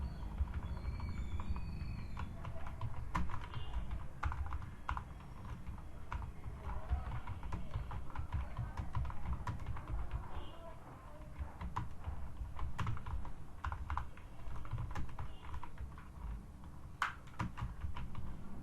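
Keys clatter on a computer keyboard in a quiet room as a line of text is typed, with irregular soft taps and clicks throughout.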